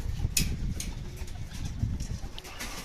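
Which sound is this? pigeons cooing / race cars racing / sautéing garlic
pigeons cooing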